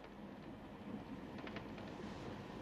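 A train rumbles steadily along the rails, a dense low roar with faint rattling on top, continuous throughout.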